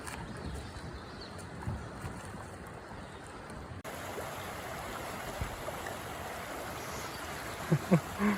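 A low, shallow river runs after weeks without rain, giving a faint, steady rush of water over the whole stretch. A few soft knocks sound near the end.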